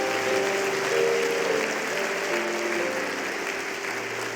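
Applause filling a church during a sermon, a continuous crowd wash with a sustained tonal hum of music or voices underneath, steady and fairly loud.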